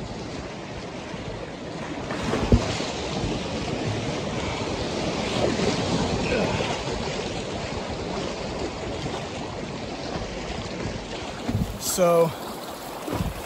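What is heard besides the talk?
kayak paddling through white water rapids in Pine Creek Gorge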